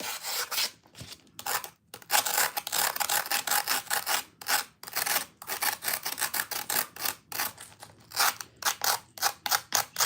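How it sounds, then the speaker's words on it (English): Rapid rhythmic scraping of material being shaved like shaved ice for a snowball, a steady run of close, gritty rasping strokes with brief pauses between bursts. "Shaving it like shaved ice."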